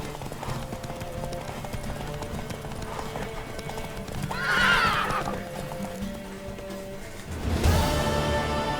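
Horse hooves clip-clop steadily during a horse race in The Witcher 3: Wild Hunt video game, with a whinny rising midway and another neigh near the end over a busy background.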